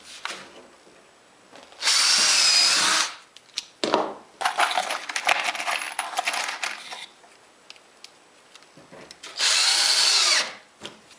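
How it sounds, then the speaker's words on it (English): A power drill drives 1¼-inch drywall screws through 1/2-inch plywood into a 2x4 frame, with two loud sustained whirring bursts separated by a stretch of clattering handling and knocking noises, no talking. "that's just going to get attached with some 1¼ inch drywall screws"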